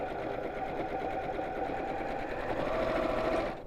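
Sewing machine stitching along the sides of a child's drawstring backpack, a steady, continuous motor whir with rapid needle clatter, close and fairly loud, running without a break and with no talking.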